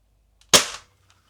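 A T4E less-lethal launcher fires a single hardened nylon projectile from its left barrel, one sharp, loud crack that decays quickly into silence.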